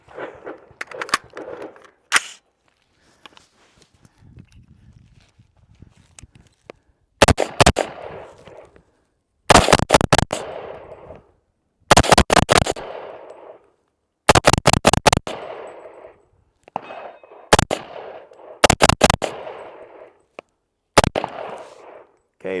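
A Blackout Defense pistol chambered in 300 Blackout fires PPU ammunition in loud, sharp shots. The shots come singly and in quick strings of two to four, separated by quiet gaps with faint handling noise.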